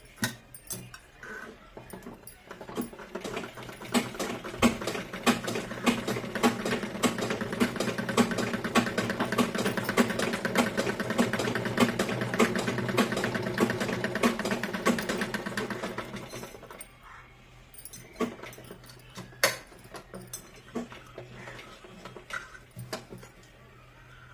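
A sewing machine stitching pleats into a palazzo runs in a steady rapid whir for about fifteen seconds, then stops, followed by scattered clicks and fabric handling.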